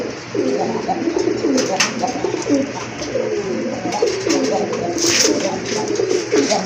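Pet pigeons offered for sale coo in a repeated rhythmic series of soft throaty calls close by, with faint background noise and a brief higher sound near the end.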